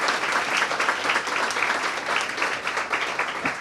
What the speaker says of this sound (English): Please join me in giving a round of applause to my constituents.